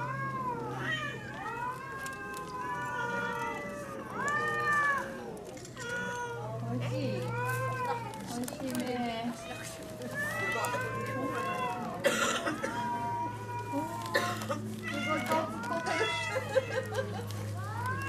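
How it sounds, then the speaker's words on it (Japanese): Many cats meowing together at a crowded feeding spot on Aoshima cat island in Japan, overlapping cries from several animals continuing throughout, with a steady low hum underneath. "これが全部猫と信じれないわ。"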